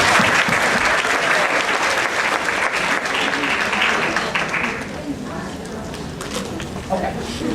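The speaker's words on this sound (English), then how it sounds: "So give them a round of applause." Applause from an audience at a female empowerment symposium, loud dense clapping that carries on for several seconds, then drops to quieter scattered claps with voices murmuring underneath.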